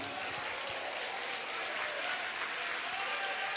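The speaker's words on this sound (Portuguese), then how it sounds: "Eu quero ouvir palmas misturado com glória a Deus." A church congregation claps in worship, a soft, distant and continuous patter of many hands that stays even throughout.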